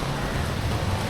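Rain falling on a street in Chinatown, Singapore, a steady broadband hiss of drops with a low rumble of traffic underneath, continuous and fairly close throughout the short stretch.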